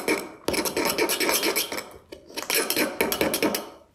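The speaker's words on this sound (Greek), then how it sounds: "Για το ανακάτευμα χρησιμοποίησα ένα πυρουνάκι." A small fork stirs face mask ingredients in a small dish, giving continuous scraping and clinking against the container, loud and close with brief pauses, no talking.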